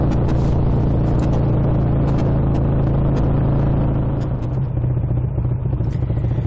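A car rolls along a road on the way to a motor club rally, giving a continuous loud engine rumble and road noise with occasional light clatters and a small shift in engine tone near the end.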